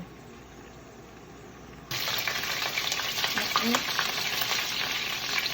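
Chicken browns in hot oil in a pot for Jamaican brown stew, a quiet hum that jumps to loud continuous sizzling about two seconds in, with scraping stirs and utensil clicks over the frying.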